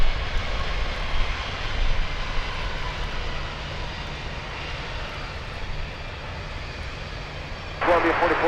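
A heavy Boeing 767 jet airliner comes in to land at Miami International Airport, its engines a loud, broad roar that swells and fades, with a brief burst of sharper noise near the end.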